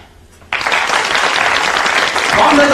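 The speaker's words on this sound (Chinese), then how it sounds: "让我们以热烈的掌声欢迎黄河同学到台上来" Applause welcoming a student onto the stage at a school celebration, erupting suddenly after a quiet moment into loud, sustained clapping from a crowd.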